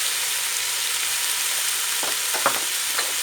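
Washed, cut spinach with salt sizzles steadily in a frying pan, a constant close hiss with a few soft stirring scrapes near the end, no talk.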